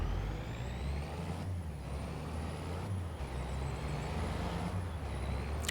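A pickup truck on a farm gives off a steady broadband engine rumble with a thin high whine, constant and fairly close throughout.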